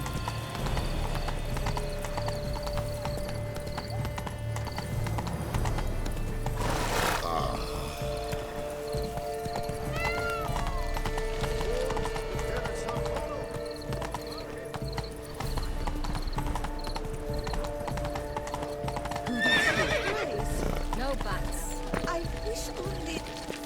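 Horse hooves clip-clop in a steady trotting rhythm in The Witcher 3: Blood and Wine, continuing under dialogue and game music, with a neigh partway through.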